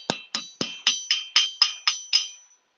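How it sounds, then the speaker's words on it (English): Hammer blows on copper metal while shaping a twisted copper cuff bangle: nine ringing metallic strikes in a steady rhythm, close and loud, each leaving a short bright ring that fades. "Ideally, your hammer blows will go like this and you'll move your metal."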